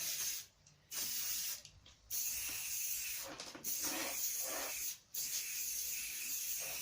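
Bike degreaser sprayed from a can onto air rifle parts in several close, hissing bursts separated by short pauses, with no talking.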